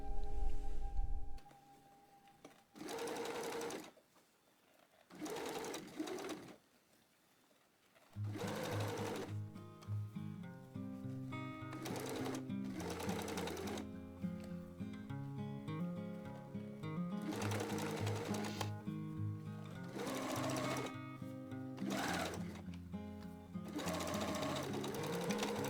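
A sewing machine understitches the facing of a drawstring dress, running in several close bursts separated by short pauses, then a long steady stretch of stitching with brief stops, heard alone.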